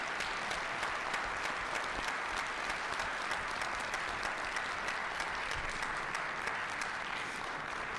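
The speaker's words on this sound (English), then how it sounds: "join me in a round of applause in" A room full of people at a police commission meeting gives a steady, continuous round of applause for uniformed police officers, dense clapping with no pauses for about eight seconds.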